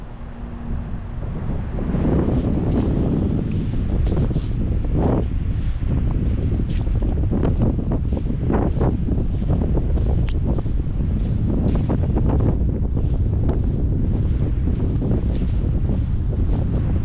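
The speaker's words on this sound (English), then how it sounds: "it is just the wind, the ocean," Wind buffets the microphone on an empty beach at Edisto Beach, South Carolina, near St. Helena Sound, with heavy rumbling gusts and the wash of ocean waves running continuously and loudly throughout.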